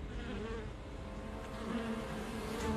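A swarm of cartoon bees buzzes continuously and steadily, a dense droning hum that fills the whole moment at a moderate level, with no voices over it.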